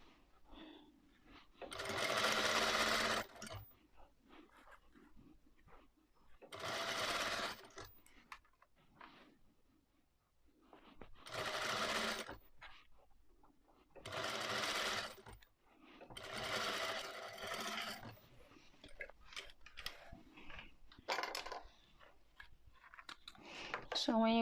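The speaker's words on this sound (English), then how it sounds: "So I'm sewing down." A sewing machine stitches a boning strip onto corset fabric in repeated close whirring bursts of a few seconds each, separated by quieter pauses with faint handling noises.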